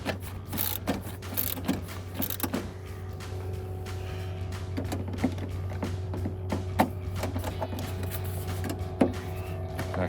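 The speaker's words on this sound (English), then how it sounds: "we could use our 10mm socket wrench" A 10mm socket wrench tightens headlight bolts on a 2004-2008 Ford F-150, giving scattered close ratcheting clicks in irregular bursts over a steady low background hum.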